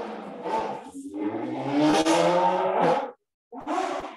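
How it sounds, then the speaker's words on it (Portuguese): A motorcycle passes close by outdoors, its engine swelling to a loud whooshing roar with a rising, accelerating tone before cutting out and briefly returning. "Espera aí que bem agora passou uma moto."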